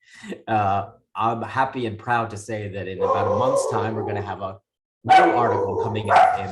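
Dogs bark intermittently in the background of a talk on the Thunderbird School of Global Management, mostly masked beneath a man's steady, close speech, with a brief pause before he resumes talking.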